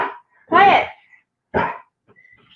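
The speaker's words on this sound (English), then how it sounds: "I asked for a one dog bark quota" A dog barks indoors, two loud close barks with a short pause between them, followed by a faint whimper.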